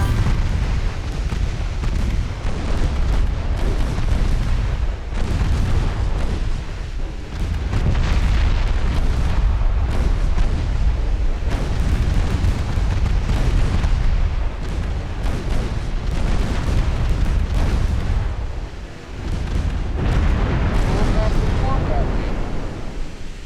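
Heavy booming impacts and rumbling explosions in the naval strategy game Ultimate Admiral Dreadnoughts, as torpedoes strike a warship, sustained and loud with repeated deep blasts and a voice talking intermittently underneath.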